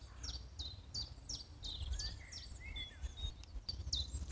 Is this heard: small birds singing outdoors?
yes